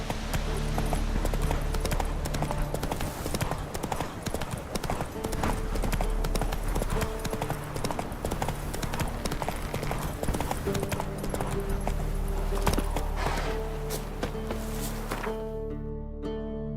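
Horse hooves clip-clop steadily in the video game The Witcher 3, an even walking rhythm heard close over a low ambient bed, with some faint background sounds mixed in.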